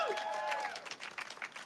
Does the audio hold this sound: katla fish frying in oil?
no